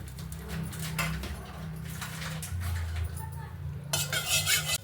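Garlic stir-roasted in a pan over a medium flame for chutney powder, with a steady scrape and clink of a spatula against the pan, a low frying hiss, and a brighter burst of rattling near the end; no one speaks.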